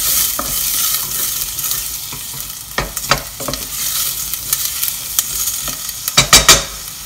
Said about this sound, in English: when it starts sizzling, you then get the rest of your onion in